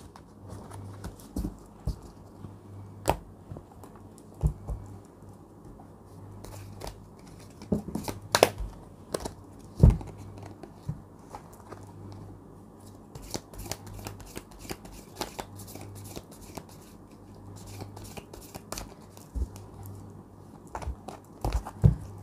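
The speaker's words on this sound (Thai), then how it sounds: "เดี๋ยวอาจารย์รวบไพ่นะ" Tarot cards are gathered and shuffled by hand nearby, giving a long run of soft riffling flutters and crisp taps, quiet and steady with irregular louder snaps.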